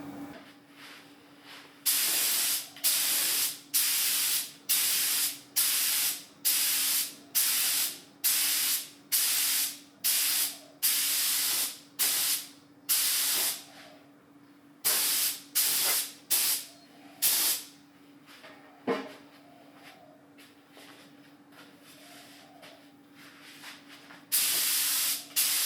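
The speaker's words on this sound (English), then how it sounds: "Putting down a base coat of silver on first for the pinstripe, and then black." Silver base coat being spray painted onto a Honda CX500 fuel tank, close rhythmic spray-can hisses in repeated one-second bursts with short pauses, under a faint steady hum.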